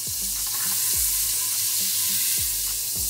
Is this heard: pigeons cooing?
no